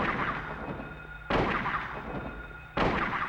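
Two heavy rifle shots in the Silent Hill video game, booming and close, spaced about a second and a half apart over a steady droning background.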